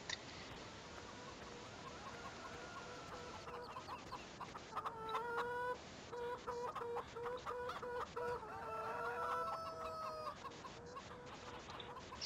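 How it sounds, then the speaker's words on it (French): Chickens clucking on a farm in the video game Farming Simulator 17, a run of repeated fowl clucks and calls at moderate distance over a soft ambient bed, no talk. "Tiens, il y a des poules."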